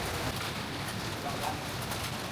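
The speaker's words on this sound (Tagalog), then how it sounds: "Biglang lumakas yung ulan" Heavy rain falls in Taipei city, a dense, even hiss of drops on surfaces that holds steady throughout, with faint voices mixed in.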